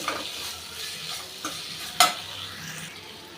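Citron (narthangai) pachadi sautéed in a pan with turmeric and salt, giving a soft steady sizzle with scraping stir strokes and a sharper utensil clank near the middle, no talking.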